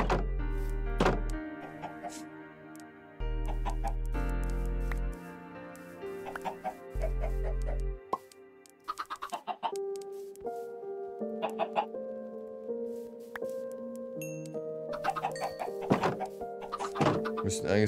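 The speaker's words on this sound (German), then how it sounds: "Hühner, stimmt, die haben wir auch noch." Minecraft chickens cluck now and then in a video game, mixed with block-placing thunks and game tones while someone talks throughout.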